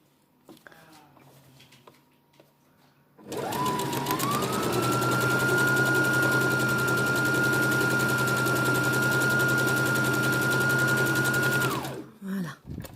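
An electric sewing machine stitches a fabric face mask in one long, steady, loud whirring run of about eight seconds, starting and stopping abruptly, with faint quiet handling sounds before it.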